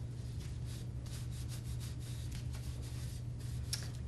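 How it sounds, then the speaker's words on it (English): Sandpaper is rubbed across wood to give it an aged look, in quiet, steady back-and-forth strokes with a low hum in the background. "We are going to come along with the sandpaper again"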